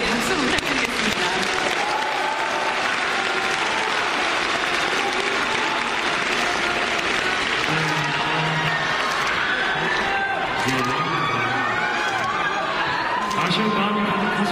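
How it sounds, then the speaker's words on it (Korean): Large concert audience applauding the Marine Corps military band, a dense, steady roar of many hands clapping throughout, with crowd murmur and a few voices talking faintly underneath. "다시 한번 우리 군악대 여러분들에게 박수 부탁드리겠습니다"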